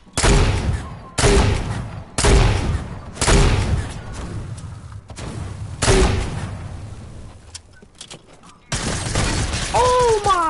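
Loud Fortnite gunfire with heavy booming blasts from a grenade launcher, several big hits in a row with short gaps between them, then rattling shots and a higher whistling effect near the end.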